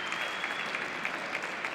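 Crowd applause rolls through a padel finals arena after a rally, steady dense clapping at moderate distance that carries on evenly without any talk over it.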